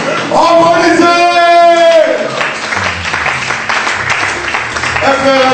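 An audience applauds at a French-language talk, a dense wash of clapping that swells in the middle of the clip beneath and between a speaker's raised voice.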